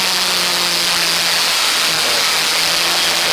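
Historic Formula Ford race cars at speed at Donington Park, a steady loud roar of engine and road noise with a low droning tone persisting throughout.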